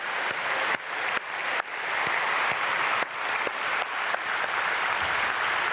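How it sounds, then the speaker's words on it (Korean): A church congregation at a Myungsung Church dawn prayer service claps together. The steady, full applause fills the hall for several seconds and is broken by a few sharp louder claps. "우리 1차 산상성회 잘 마친 거 감사드리고 박수로 축복하겠습니다."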